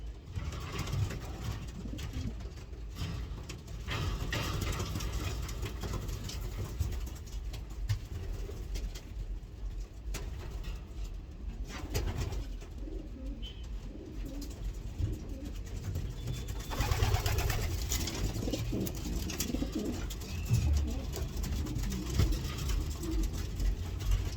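Racing pigeons coo softly at close range in a loft, with scattered wingbeats and shuffling over a steady background rumble, and louder bird activity late on.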